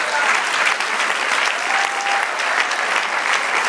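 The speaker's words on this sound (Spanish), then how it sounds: "Den un aplauso al Señor." Congregation applauding during a Spanish-language church Bible lesson, a steady dense clapping from many hands that holds evenly throughout without a break.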